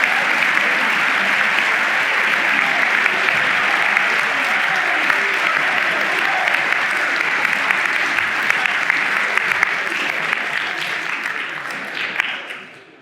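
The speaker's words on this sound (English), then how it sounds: "Can we give these young men a round of applause" A large audience applauds for young men at an inspirational talk, a loud, dense and sustained wash of clapping that holds steady for about twelve seconds before quickly fading out.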